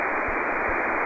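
Steady band-limited radio static hisses loud and unbroken, with two faint low thumps partway through and no speech.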